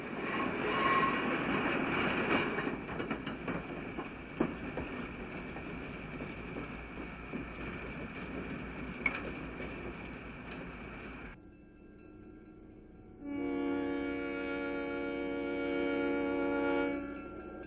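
A Grand Trunk diesel passenger train, the Maple Leaf, heads east out of Griffith, Indiana, rumbling past with rolling wheel noise and clatter, then after a lull a loud, sustained multi-tone air horn blares.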